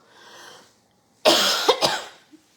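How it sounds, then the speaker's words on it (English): A person coughs hard, one loud burst followed by a couple of quick sharp hacks close to the microphone, with a faint breathy sound before it and a small throat noise afterward. "I gotta get off here because I just need to like cough a million times apparently"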